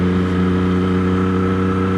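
A motorcycle cruising slowly in third gear makes a steady, even engine drone at moderate revs that holds constant throughout, close and fairly loud, with no talk.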